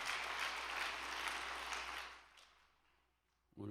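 Audience applause for a singer after a performance of a song, a broad wash of steady clapping that fades out over a few seconds before a short low thump at the end.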